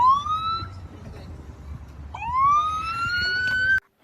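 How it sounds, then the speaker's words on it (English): Emergency vehicle sirens outside, two rising wails sweeping upward one after another, loud over a low traffic rumble, cutting off abruptly at the end with no talking. "Sorry for any background noise. It's probably gonna be a little fucking sirens."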